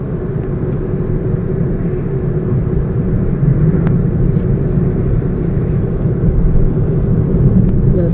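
From inside a moving car, a steady low road-and-engine rumble fills the cabin, constant and fairly loud with only faint, brief clicks over it.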